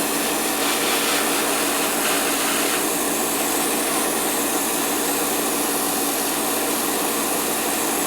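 Airbrush spraying while painting a custom Gundam G-Self model kit, a steady loud hiss of air that runs unbroken from start to finish.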